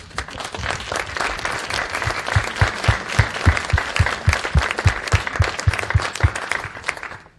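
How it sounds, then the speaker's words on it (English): Town hall audience applause, a thick continuous patter of many hands, with a few louder claps near the microphone cutting through at a fairly regular pulse, lasting several seconds before tapering. "how about another round of applause for Grace?"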